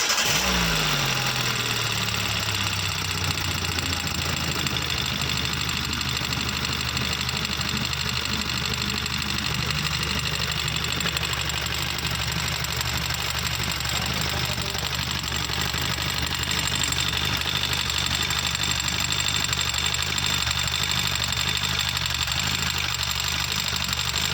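A Hyundai i10 engine with a leaking timing oil seal runs steadily, a continuous close mechanical hum and drone that holds at an even level with no voices.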